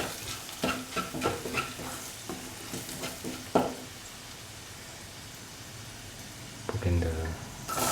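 Mango pickle being mixed with chili powder and salt: a series of soft scraping, stirring strokes in an uneven rhythm, followed by a quieter stretch and a brief clatter near the end.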